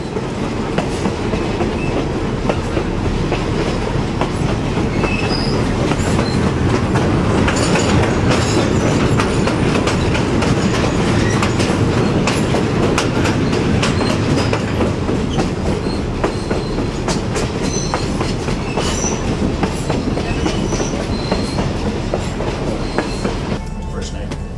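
Rumbling train of the Conway Scenic Railroad rolling along steadily, with continuous wheel clatter and car noise heard from inside a galley car, loud and unbroken throughout with some faint voices mixed in.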